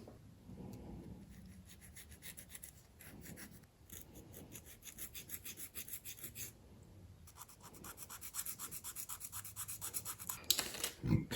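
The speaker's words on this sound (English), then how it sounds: "Now we'll just clean it up with various sanding sticks" Small sanding sticks scrape back and forth over a 1/200 scale plastic ship model superstructure part, a close, dry rasping in uneven strokes that grows faster and louder toward the end.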